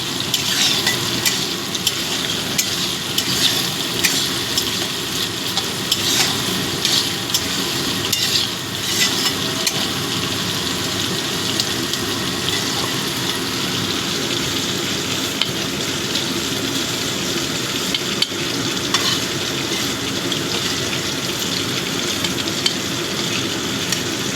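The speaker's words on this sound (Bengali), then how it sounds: "চিংড়ি মাছটা আমার ভাজা হয়ে গেছে" Large prawns cut into small pieces frying in hot oil in a pan, a steady dense sizzle with occasional scraping stirs, close and continuous with no talking.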